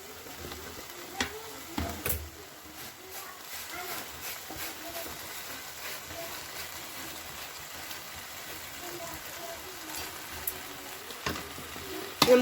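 Beef leg and tapioca frying in a pan with beef masala, coriander, chili and turmeric powders, a steady close sizzle with occasional scraping stirs and clinks, a voice speaking intermittently over it.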